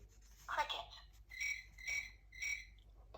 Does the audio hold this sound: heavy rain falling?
no